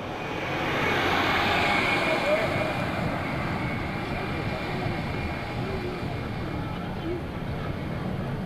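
A Fat Albert C-130 transport plane flies at the 2003 New York International Airshow, its engine roar a steady, broad drone that holds loud throughout, with a faint high whine riding above.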